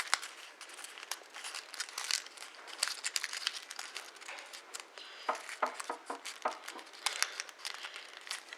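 Paper is folded into an origami Transformer, giving close, quiet crinkles, rustles and sharp creasing snaps in irregular bursts with no speech over them.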